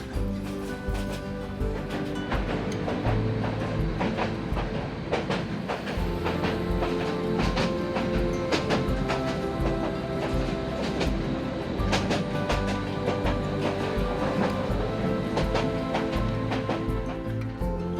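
A passenger train, the Haor Express from Dhaka to Mohanganj on a rainy night, rolls along with a steady, loud rumble and continuous clickety-clack of wheels over rail joints. No one speaks.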